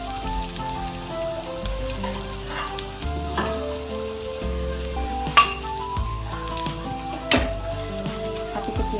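Tofu skin is sautéed in a pan with shallots and garlic, giving a steady sizzle and frying hiss. Utensils scrape and clatter now and then as the food is stirred up close.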